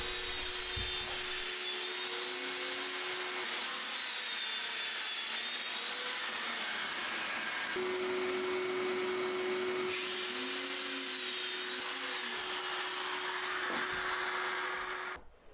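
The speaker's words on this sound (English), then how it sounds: "I'm going to use my dowel joiner to do it" A dowel joiner drilling holes into the wooden sides of garden planters, a loud steady motor whine with a high, hissing roar that runs almost without a break, shifting slightly in pitch as it cuts, then stops at the end.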